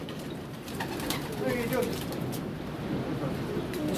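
Pigeons coo in a dovecote, soft, steady cooing running throughout beneath a man's nearby speech.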